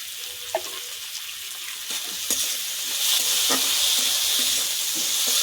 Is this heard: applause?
no